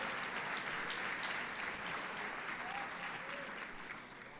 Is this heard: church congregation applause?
yes